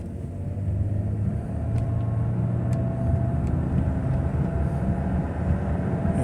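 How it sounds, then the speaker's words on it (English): A 1998 BMW 528 with a faulty transmission stuck in gear pulls away from a stop, its engine holding a steady loud drone without shifting up, no talk. "it looks like it's still stuck in that gear where it's not shifting up"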